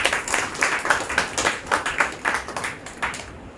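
A congregation claps in steady rhythm during a church service, the sharp overlapping claps evenly paced and moderately loud, ending abruptly.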